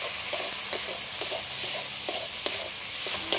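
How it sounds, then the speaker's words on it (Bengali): Prawns frying with banana flower in a pan, a constant bright sizzle broken by sharp clicking stirs of a spatula against the metal, close and fairly loud. "এবার চিংড়ি মাছগুলো দিয়ে দেবো।"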